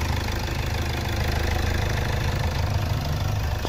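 A 2013 Hyundai Accent CRDi hatchback with automatic transmission, its diesel engine idling steadily with a low, even rumble and a faint knocking texture, close by, no talking.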